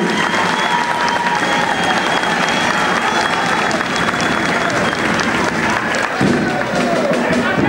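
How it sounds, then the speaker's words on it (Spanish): An audience at a political swearing-in ceremony applauds loudly and steadily, a dense continuous wash of clapping from a large crowd. The applause holds for several seconds and shifts slightly near the end. "un fuerte aplauso."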